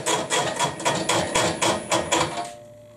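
Holes being made in motorcycle chain guard brackets for a cafe racer build, a rapid close run of about ten loud metallic hammer-like strikes in steady rhythm before stopping.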